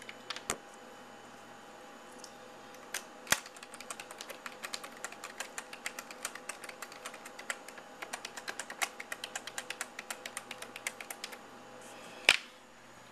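A password tapped out on a computer keyboard, a quiet run of quick, irregular key clicks with a few heavier strokes, one firm press near the end like hitting enter, close by and without talk.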